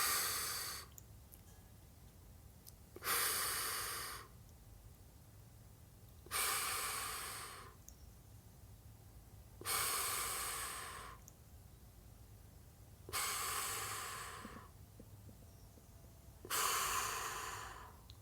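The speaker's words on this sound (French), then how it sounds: "Et j'expire." Slow, deep exhalations during a guided breathing exercise: six long, airy breaths out, each lasting about a second, spaced evenly every three to four seconds, close to the microphone in a quiet room.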